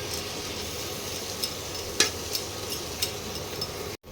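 Spice paste with softened tomato fries for a lamb curry while being stirred, a low steady sizzle with a few sharp scrapes and taps of the spoon against the pan, close by and quiet.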